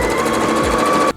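Sewing machine running steadily as it stitches straight seams along a small fabric piece, a continuous close mechanical whir that stops abruptly near the end.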